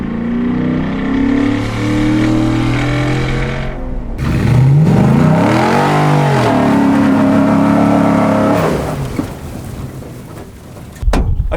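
A 2019 Ford Raptor pickup with keyless push-button start fires up and revs: a loud, close engine roar with rising and falling pitch sweeps, a brief dip, then sustained revving before cutting off abruptly.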